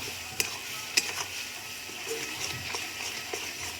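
Ginger-garlic masala is stirred and fried in a pan, a continuous close sizzle broken by a few sharp scrapes and knocks of the spoon against the metal, with no one speaking.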